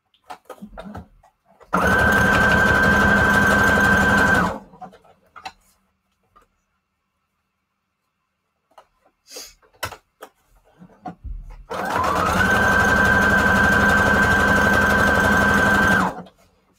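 Two long bursts of a sewing machine stitching junk journal photo embellishments, loud and close with a steady whirring hum, separated by a quiet pause with small handling taps.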